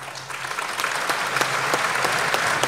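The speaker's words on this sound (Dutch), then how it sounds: "Een warm applaus voor de jury van vanavond." Steady, dense clapping from a sizable audience, loud and continuous throughout, building slightly over the span.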